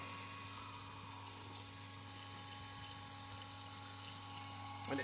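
Water runs through a drinking-water filter with a faint, steady rushing under a constant low hum, ending in a brief louder knock.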